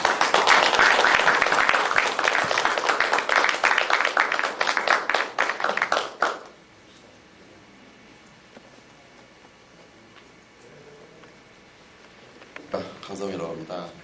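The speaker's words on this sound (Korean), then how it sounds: "나오실 때 뜨거운 박수로 환영해 주십시오." Warm audience applause at a church sound-equipment seminar welcomes a speaker, loud dense clapping that fades out after about six seconds, followed by a near-silent room before a voice begins speaking.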